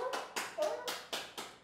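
A man claps his hands like a seal: six sharp, evenly spaced claps in quick succession, close and distinct, with no talk over them.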